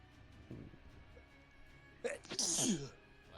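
Quiet background murmur, then a sudden sharp sneeze bursts out near the end, brief and close.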